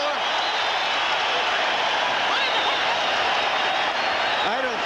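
A boxing arena crowd roars in a dense, continuous wall of cheering and clapping as a fight flares up in the ring, loud and sustained, with a commentator's voice faintly beneath it.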